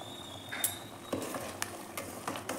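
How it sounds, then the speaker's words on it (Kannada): A spoon scrapes and knocks softly around a pan of ridge gourd chutney, light irregular stirring taps and scrapes close by with a faint background hiss, no voices. "ಎಲ್ಲ ನೀಟಾಗಿ ಮಿಕ್ಸ್ ಮಾಡ್ಕೊಳ್ಳಿ"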